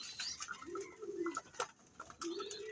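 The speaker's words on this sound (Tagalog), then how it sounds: "Itong mga ibon na to, yung iba dito nalipad na sa atin." Soft pigeon coos repeat a few times, low and throaty, close by, with light rustling and faint chirps around them.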